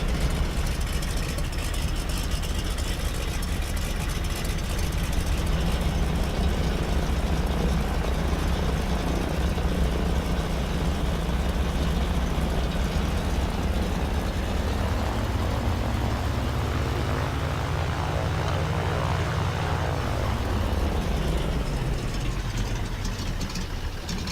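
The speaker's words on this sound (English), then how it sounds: "that really nice lopey radial sound that you would expect" A loud, continuous radial aircraft engine drone in a flight simulator game, lumpy and throbbing, its pitch dipping and rising partway through. No talking.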